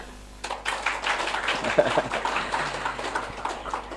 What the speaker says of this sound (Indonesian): Ayah Bunda, biar seru, biar nggak ngantuk, tepuk tangan yuk